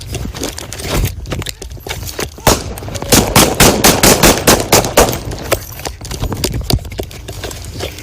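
Gunfire erupts during a police confrontation, a rapid burst of sharp, loud shots in close succession with a few scattered shots before and after. The shots sound near and echo.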